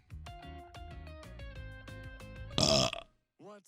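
A single loud, rough burp bursts out near the end, close and brief, over steady tonal background sounds.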